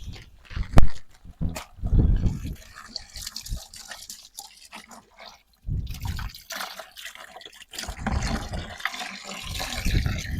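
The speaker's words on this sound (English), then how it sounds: "add water" Water splashes and trickles into a container with salt at a fish farm in uneven bursts, with drips and sloshing close by, pausing briefly midway before resuming.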